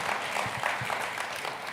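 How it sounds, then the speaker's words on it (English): Audience applause at an annual lecture event after a vocal performance, a steady, dense patter of many hands clapping throughout, heard alone without talk. "Another round of applause for her."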